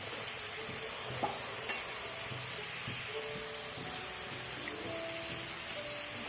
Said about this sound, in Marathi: टोमॅटो आपल्याला गळूपर्यंत ह्याच्यात भाजायचा आहे